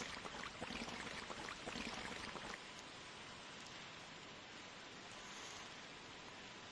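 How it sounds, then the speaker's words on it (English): Rain effect from the Dreamcast game Sonic Adventure DX: a dense, continuous hiss of falling rain, heavier and more spattery at first, then settling into a steady even wash. "It's also a pretty cool rain effect for the Dreamcast."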